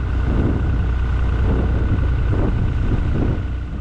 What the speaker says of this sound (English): It's gone really, really windy, so I do apologise if this sound doesn't turn out